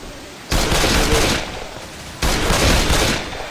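Gunfire in the video game Left 4 Dead 2: two loud sustained bursts of rapid shots, the first about a second long and the second after a brief gap, close and harsh with no voices.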